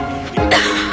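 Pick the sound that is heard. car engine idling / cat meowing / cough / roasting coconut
cough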